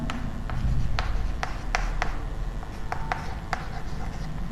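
A teacher writes lesson notes on a board about the function of saliva, producing steady rubbing strokes and sharp taps, a run of close scratchy marks with no talking.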